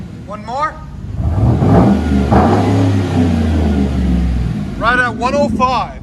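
A Chevy Avalanche with a 5.3L V8 and straight-pipe exhaust revs up loud and close, holding a deep sustained roar before settling. Short sharp squeaks and chirps come at the start and the end, with no speech.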